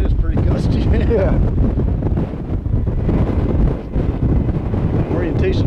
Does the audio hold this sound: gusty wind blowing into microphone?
yes